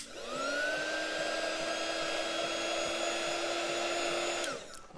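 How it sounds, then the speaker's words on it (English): A heat gun blows a steady, loud whooshing blast over a thin freshly poured layer of resin for a floral keychain, running evenly for about four and a half seconds before cutting off. "I take my heat gun and just give that a little blast."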